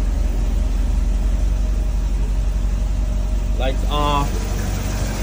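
A 1981 Toyota SR5 pickup engine idling in a low, steady drone, close and continuous, with a voice speaking briefly over it near the end.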